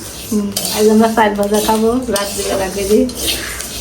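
A metal utensil clatters and scrapes in a pan as rice is dry-fried, while a person talks over it up close.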